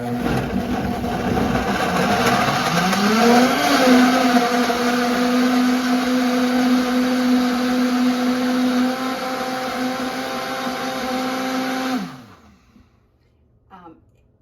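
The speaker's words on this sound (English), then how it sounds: "we're gonna blend it, and it doesn't take very long, but I'm gonna go ahead and blend her up" A blender whirs loud and close as it blends vegan coffee mocha ice cream, the motor pitch rising then holding steady for about twelve seconds before spinning down, followed by a soft clunk.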